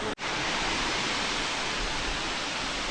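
The Tonkota waterfall near Vizag, a tall cascade over 100 feet high, gives a loud, close, unbroken roar of falling water. After a brief cut at the very start it stays steady with no voices.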